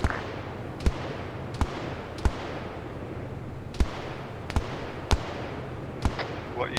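Sharp gunshots in a tactical shooter game, about eight isolated reports spaced roughly a second apart, loud and close over a steady low rumble of background ambience.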